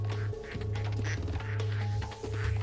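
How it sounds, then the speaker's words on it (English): A giant rubber-duck vent in the incremental factory-builder game Project PITT quacks repeatedly in a steady, loud, nasal series, each quack rising over a low droning hum with no talking. "quacking duck vent"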